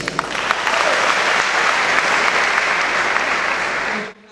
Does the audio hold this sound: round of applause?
yes